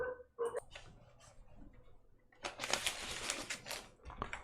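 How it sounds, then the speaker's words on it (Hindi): Dogs bark in a burst of loud, overlapping yaps partway through, preceded by a few scattered sharp sounds, with no clear talk over them. "कुत्ते भौंक रहे हैं"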